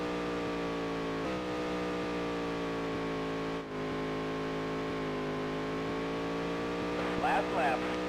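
A race car engine in the Dirt to Daytona video game holds a steady, droning, harmonic whine at high revs for the whole stretch, with a brief dip in the middle, loud and close.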